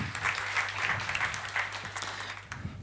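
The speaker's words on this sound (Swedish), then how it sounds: "kan vi väl helt enkelt be Pernilla Johansson under smattrande applåder äntra scenen" A conference audience applauds steadily throughout as a speaker takes the stage, a dense patter of clapping that eases off slightly near the end.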